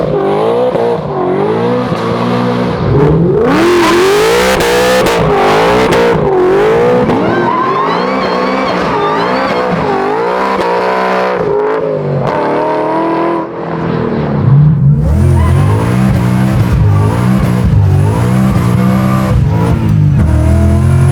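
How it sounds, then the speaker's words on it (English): A 785-horsepower Mustang Fastback roars through a burnout, its engine revving hard and loud in repeated surges and drops, with tire squeal and skidding noise mixed in throughout. "We're gonna stop before you do a burnout so they can get in position."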